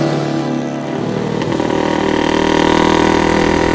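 A motorcycle engine runs steadily close by, a dense mechanical drone that holds its level with a slight rise in intensity partway through.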